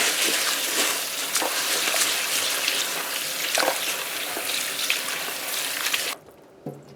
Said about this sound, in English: our oil is getting heated up